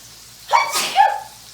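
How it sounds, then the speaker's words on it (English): A single sharp sneeze bursts out near the microphone, with a short, noisy onset followed by a brief voiced tail, surrounded by quiet. "Sneeze."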